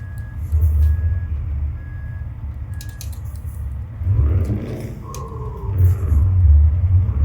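A Scania T500 truck in Euro Truck Simulator 2 skids on a curvy road. The deep engine rumble swells and fades across the clip, with a faint intermittent beep early on.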